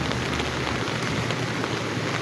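Steady morning drizzle falling continuously, a dense even patter of rain on surfaces close by with no voices.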